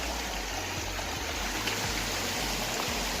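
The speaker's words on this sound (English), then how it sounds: "This is the 4th little stream like this I've crossed." A small, crystal-clear mountain stream along a hiking trail flows with a continuous close rushing and gurgling, steady and unbroken throughout, with no voices over it.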